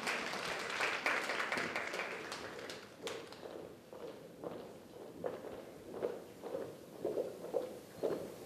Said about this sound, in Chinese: 也让我们掌声欢迎比赛主席 DTM 吴慧妮上台颁发参赛证明